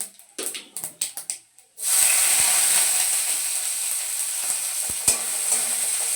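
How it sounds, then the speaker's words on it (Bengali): White mustard seeds dropped into hot oil to temper a tomato dal: a few sparse clicks, then a sudden loud, steady sizzle with crackling that holds for several seconds. No one speaks. "সাদা সর্ষে ফোড়ন দিচ্ছি আমরা টমেটোর ডালে"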